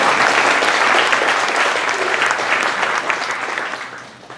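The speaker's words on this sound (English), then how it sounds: "Will you guys clap for yourselves this morning?" A church congregation applauds steadily throughout, loud and sustained at first, then thinning and fading toward the end.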